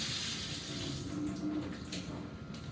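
Very hot water pours steadily into a container while tea scones are being prepared, a continuous rushing splash heard close up and alone.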